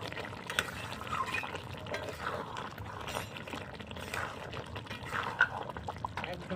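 A cauliflower curry seasoned with garam masala is stirred in a pan, giving a soft, continuous wet churning with faint scrapes and an occasional sharper clink, close by, with no talking.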